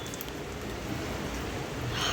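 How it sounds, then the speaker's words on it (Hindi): Heavy rain falling outdoors, a dense, continuous hiss of countless drops with steady loudness throughout, a few brighter splashes standing out near the end. "गाइस बहुत ज्यादा तेज बारिश हो रही है"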